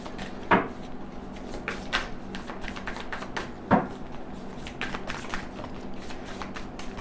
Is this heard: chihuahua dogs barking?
no